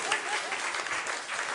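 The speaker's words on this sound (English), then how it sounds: "Give him a round of applause." Brief applause from the studio audience of a music quiz show, a steady burst of clapping at moderate level lasting under two seconds with no clear talk.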